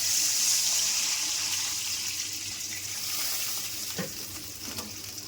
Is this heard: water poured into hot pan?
yes